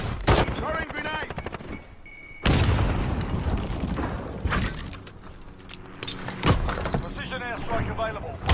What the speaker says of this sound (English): you hear all the gun sounds?